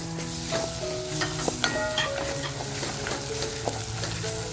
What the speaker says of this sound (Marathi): जो मसाला करून घेतलाय ना तो मसाला फ्राय करते याच्यामध्ये